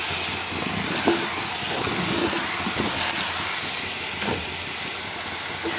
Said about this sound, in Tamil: மஷ்ரூமை கொஞ்சம் வதங்கட்டும்.